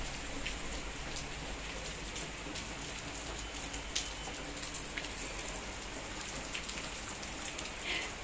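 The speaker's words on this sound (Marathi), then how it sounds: "पाऊस आलाय" Steady rain falls outside, a dense continuous patter on surfaces with scattered louder drops, heard alone at a moderate distance.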